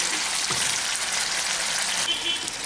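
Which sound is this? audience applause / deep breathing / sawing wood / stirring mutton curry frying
stirring mutton curry frying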